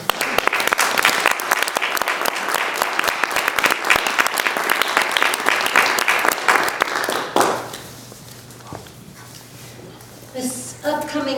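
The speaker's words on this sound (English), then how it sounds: "can we applaud what we just saw?" An audience at a writing and performance event applauds a just-finished reading, with dense, steady clapping for several seconds before it abruptly dies away into near quiet and a few voices.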